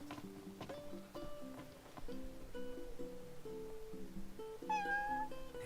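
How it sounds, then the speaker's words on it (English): A stray cat meows repeatedly in Final Fantasy XV, several drawn-out cries up close over a steady musical background with no talking. "It's a kitty cat."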